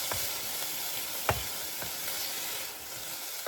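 Meat browning for pasta night crackles and sizzles steadily in a pan, with a few sharper pops and spatters and the occasional scrape of stirring close by.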